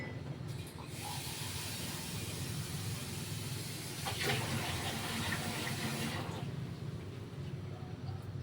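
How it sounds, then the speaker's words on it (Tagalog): A large cup of broth is poured into a pot of sautéed mung beans with moringa leaves, giving a steady, close splashing hiss that swells briefly in the middle before settling back. "dagdagan ko pa ng isang tasang sabaw guys kasi matutuyo yan mamaya"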